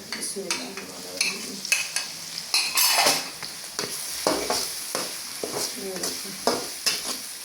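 Tomatoes dropped into a lightly browned garlic-ginger masala for moong dal tadka, with sizzling oil, sharp clinks of a metal spoon against the pan and irregular stirring knocks close by.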